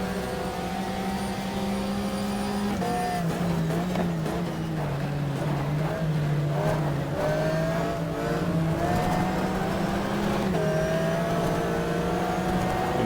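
A race car at full throttle in the video game GTR 2, in the Pan Euro RS 2004 Rookie Cup, giving a loud, steady engine drone that dips briefly at gear changes and climbs again, with no talking.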